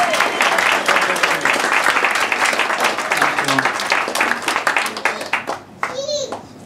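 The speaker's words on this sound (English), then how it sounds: "Please a big round of applause for little Leon." Wedding guests at a groom's speech break into dense, sustained clapping for a young boy, with voices and a child's chatter mixed in and the applause thinning out toward the end.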